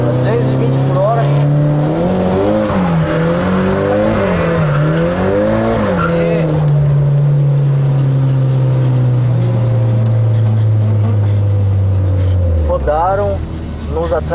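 Onboard a race car taking the main curve at 220 km/h, the engine drones loud and close, its pitch wavering up and down before easing off and dropping sharply near the end, heard somewhat muffled.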